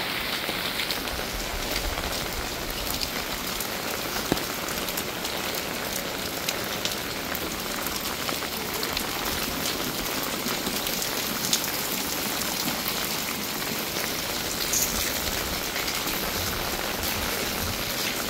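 Heavy typhoon rain pours steadily in Manila, a dense continuous hiss of drops drumming on surfaces that stays even and loud throughout, with no voices over it.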